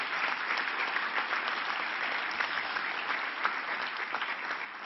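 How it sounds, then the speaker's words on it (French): A seminar audience at the opening of an education event applauds the organisers, a dense, even wash of many hands clapping that holds steady throughout with no speech on top. "je voudrais vraiment qu'on puisse les applaudir"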